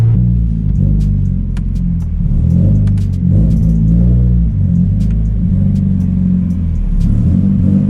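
A car engine revs and accelerates loudly at close range on a wet, cambered road, a continuous rumble climbing and dipping in pitch, with no voices over it.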